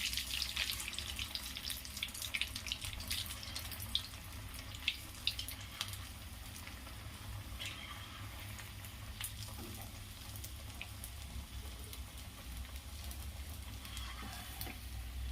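Veg cutlets fry in hot oil on a high gas flame, giving a steady, fairly quiet sizzle and bubbling hiss that runs unbroken throughout, with small crackles and pops now and then and no talking.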